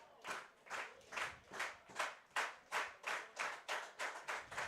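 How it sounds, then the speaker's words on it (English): Crowd clapping at an Intercounty Baseball League game between the Kitchener Panthers and Brantford Red Sox, a steady rhythmic beat of about a dozen claps, fairly faint and distant with no talk over it. "the clapping from Brantford will have to wait"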